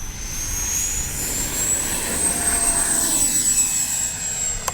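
A Freewing A-4 Skyhawk radio-controlled jet with an 80mm electric ducted fan takes off, its loud, steady high-pitched whine rising slightly in pitch as it climbs, with a broad roaring rush beneath it throughout.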